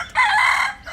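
A rooster at Mushrif Park's animal area gives a single short, loud, nearby crow, its strained held note dropping away quickly with no talking.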